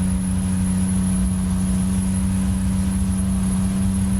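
A truck engine in American Truck Simulator drones loudly and steadily during a gear shift on a winter Dalton route, with a sustained low hum and a fixed whine running unchanged throughout.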